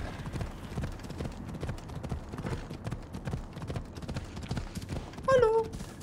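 Rapid hoof clip-clop of a horse galloping in Assassin's Creed Odyssey runs steadily throughout, with a short whinny near the end over game ambience.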